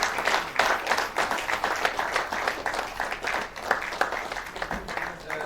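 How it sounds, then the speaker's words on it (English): Sustained applause from a crowd, dense clapping that carries on steadily for several seconds. "another round of applause for the chairman"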